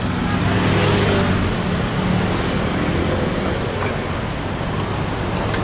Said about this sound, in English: Big old bus coming.